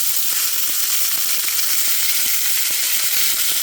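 Cut-up pork pieces hit a hot frying pan and sizzle loudly and steadily, a bright continuous hiss with faint scraping underneath.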